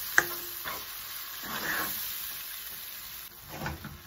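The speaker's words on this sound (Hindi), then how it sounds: "इस तरह हम अच्छे तरीके से चिकन को भून लेंगे जब तक ये वाइट होता है।" Chicken pieces sizzling as they fry in a pan for jalfrezi, with a soft steady hiss, an opening clink and a few scraping stirs rising and fading over a few seconds.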